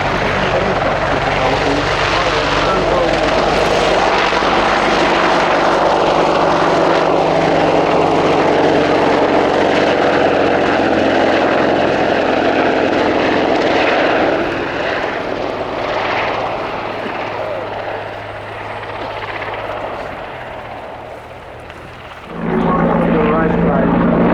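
A Panavia military jet roars loudly past at an air show, the engine noise dense and sustained before fading somewhat and then swelling again near the end.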